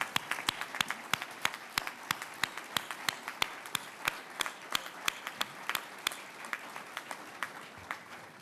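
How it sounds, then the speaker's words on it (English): Faint applause at a community leaders' event honoring Gold Star families, with a few distinct claps standing out in a fairly regular rhythm over a thin background for about eight seconds. "I want you to applaud them all as our Gold Star families."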